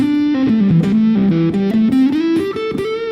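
An electric guitar runs through a Boss DS-2 Turbo Distortion with the tone knob rolling off the highs, so a short melodic run of distorted notes sounds dark, thick and muffled up close.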